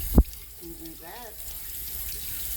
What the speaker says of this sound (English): all you're doing is just rinsing the excess salt off.